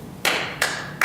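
A few sharp hand claps in a city council meeting room: three separate, evenly spaced claps, close and clear, with no one speaking.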